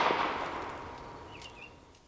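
A single pistol shot rings out, a sharp crack that decays into a long fading echo across an open range, with a faint metallic ping trailing after.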